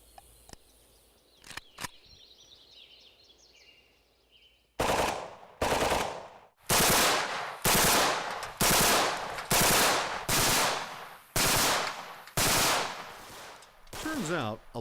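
A 5.45x39 caliber rifle with a muzzle brake, fired at a shooting range: a few faint clicks, then about nine loud, heavy shots spaced roughly a second apart, each with a booming tail.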